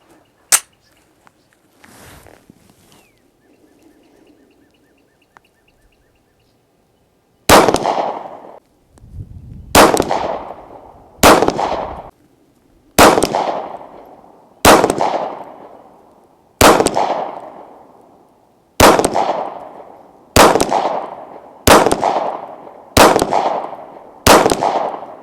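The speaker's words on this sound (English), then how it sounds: "I've never shot this gun this far," Shots from a Canik TP9 Elite SC 9mm sub-compact pistol at an outdoor range: about a dozen loud, sharp cracks, the first few spaced, then a steady string fired roughly every one to two seconds, each with a short decaying tail.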